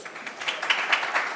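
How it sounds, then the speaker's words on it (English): An audience claps to welcome a speaker onto a panel, a short burst of dense, moderately loud applause with no voices over it. "Please let's give him a warm hand of applause."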